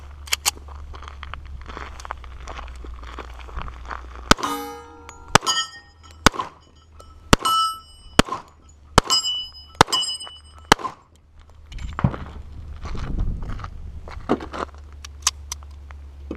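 A Dan Wesson Specialist pistol firing 230 grain reloads: about eight sharp, loud shots in an uneven string, several followed by a bright metallic ring, with no talking.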